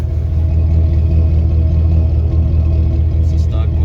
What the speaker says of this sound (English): It's a stock muffler sound.